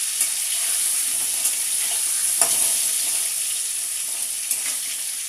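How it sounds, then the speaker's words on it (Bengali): Potatoes frying in a pan at home give a steady, close sizzle of hot oil, broken by a few soft scrapes and clicks as they are stirred, with no talking. "এখানে আলু ভাজা বসানো হয়ে গেছে"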